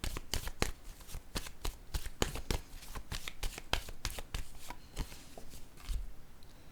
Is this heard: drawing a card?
yes